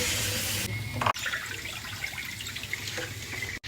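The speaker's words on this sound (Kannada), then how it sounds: "ಎಲ್ಲ ಚೆನ್ನಾಗಿ ಗಸಗಸ ಅಂತ ತೊಳ್ಕೊಂಡು ಬರ್ತೀನಿ ಬನ್ನಿ." Finger millet (ragi) being washed by hand in water for homemade malt powder, a continuous close splashing and sloshing with running-water hiss, one brief break near the middle, no voices.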